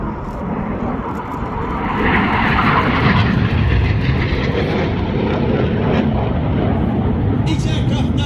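Red Arrows aerobatic jets roar past in formation at an air festival, a broad, loud rushing jet noise swelling and holding under a commentator's voice.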